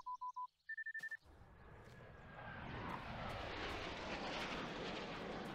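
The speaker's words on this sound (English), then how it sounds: "UAV inbound." A UAV flies in during a video game: short electronic beeps give way to a steadily rising, broad aircraft-engine roar that swells and holds loud, with no voices.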